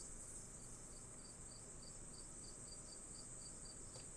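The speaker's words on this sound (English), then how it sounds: "That's a really loud cricket." A single cricket chirps loudly and steadily at close range in a regular pulsing rhythm, with no voices.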